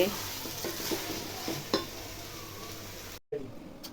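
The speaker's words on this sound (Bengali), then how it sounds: "এই যে পোলাও রান্না করতেছি, পোলাও ভাজা ভাজা করতেছি" Pulao rice frying in a pot, a soft steady sizzle with repeated utensil scrapes and taps, nearby and without talk, ending in a brief cut of silence.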